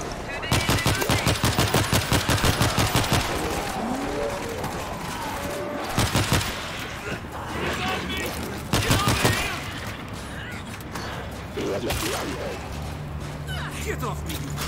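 Rapid machine gun fire in the video game World War Z Aftermath, with dense bursts of shots, the heaviest at the start and more bursts later, mixed with game effects and crashes.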